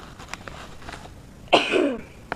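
A single sharp, raspy cough up close from someone with an irritated throat, preceded by faint background clicks and quiet room noise.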